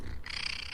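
A cat purring and giving a short meow, close and fairly loud in a brief burst.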